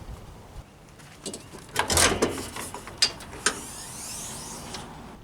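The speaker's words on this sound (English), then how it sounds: "let's go ahead and pop the hood" The hood of a 2005–2007 Toyota Sequoia is released and raised, a series of faint mechanical clicks, latch clunks and a creak close by, with no talking.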